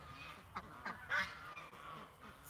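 Ducks honk a few times in short, faint bursts outdoors at night, spaced irregular calls over steady background hiss.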